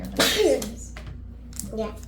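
A single sharp sneeze bursts out near the start during a children's crafting session at home, followed by children and an adult talking.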